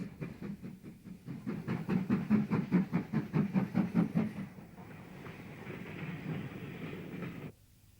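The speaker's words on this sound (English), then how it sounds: "The Class 4 is on duty today and takes its turn to haul heavy trains up the incline to the south of the station." A Class 4 steam locomotive hauls a heavy train up an incline south of a station, loud rhythmic chuffing and clanking wagons close by for several seconds before fading to a steadier rolling rumble.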